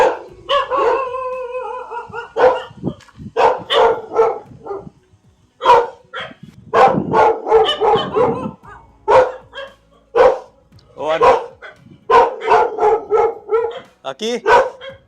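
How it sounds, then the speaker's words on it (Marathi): Dogs in a village yard with papaya trees bark loudly and repeatedly in close, overlapping bursts, with voices mixed in among the barks. "कुत्रे लागले भुकायला."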